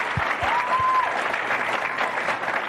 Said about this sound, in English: that is well-deserved applause